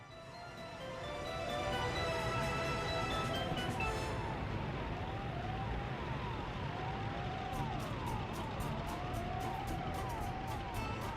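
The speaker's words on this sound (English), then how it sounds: "Those sirens, though." Overlapping wailing sirens from emergency vehicles near a hospital in the Soviet-era city-building game Workers and Resources: Soviet Republic, rising and falling steadily for the whole stretch, with faint regular clicks in the background.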